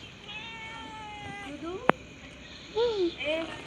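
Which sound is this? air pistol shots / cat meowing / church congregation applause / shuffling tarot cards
cat meowing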